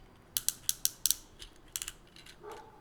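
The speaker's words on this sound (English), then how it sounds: "Ratchet it back and forth at the hips." The hip joints of a Transformers WFC-Siege Leader Class Ultra Magnus toy ratchet back and forth, giving about ten sharp plastic clicks in quick, uneven bursts, close up.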